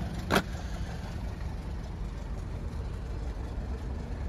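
A steady, low 2012 Buick LaCrosse engine idle rumbles close by, constant and even, with a brief click near the start and no talking.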